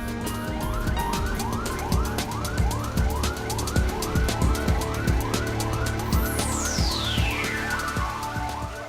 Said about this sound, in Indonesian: dan ambulans.